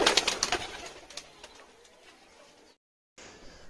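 Pigeons, including a Shirazi pigeon, coo in a loft, soft repeated throaty calls close by that fade gradually before a brief silence, then faint ambient noise returns.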